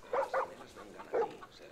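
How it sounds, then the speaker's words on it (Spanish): A dog barks in Far Cry New Dawn with three sharp, close barks in quick succession, the last one set slightly apart, followed by softer yips, with no talking. "Y el perro, tío, como ladra."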